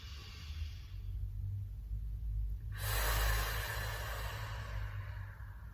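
Deep, slow breathing during a Pilates exercise, an audible inhale-exhale swell of airy noise over a low room rumble, with one fuller breath near the middle.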